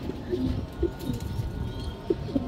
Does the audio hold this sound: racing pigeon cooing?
yes